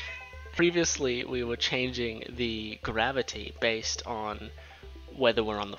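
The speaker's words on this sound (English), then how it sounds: "that's my cat, I don't know if you heard him." A pet cat meows several times in a row, clear and close, in rising and falling calls layered over a man's ongoing speech.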